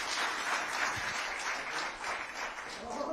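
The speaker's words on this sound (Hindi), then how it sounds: "अरे जबरदस्त तालियां बजाओ" Audience at a government project inauguration event with the chief minister, applauding in a dense, continuous wash of clapping from many hands, steady and moderately loud throughout.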